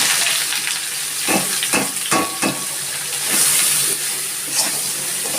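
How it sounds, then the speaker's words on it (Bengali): Boiled green jackfruit fries in a pan with a continuous hissing sizzle. Several sharp stirring scrapes cut through it in quick succession near the middle, then the sizzle carries on evenly, and no one speaks. "সিদ্ধ ইঁচড়টা আমি একটু বেজে নিচ্ছি"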